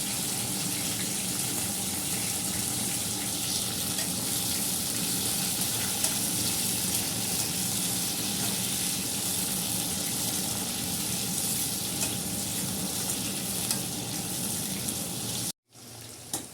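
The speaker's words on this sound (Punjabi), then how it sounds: "ਸਭ ਤੋਂ ਪਹਿਲਾਂ ਆਪਾਂ ਕਰੇਲੇ ਫਰਾਈ ਕਰਾਂਗੇ" Salted bitter gourd (karela) pieces frying in hot oil give a loud, steady, dense sizzle that runs nearly unchanged, then cuts off abruptly near the end before a quieter faint return.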